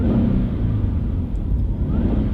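A supercharged Subaru BRZ engine holds a steady low rumble with light revving, a continuous close engine drone without clear distinct rev peaks or audible whine.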